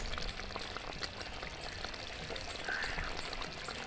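Ghee drizzled over stuffed pointed gourds cooking in a pan, a soft continuous hiss and gentle sizzle, fairly quiet and close, with no voices.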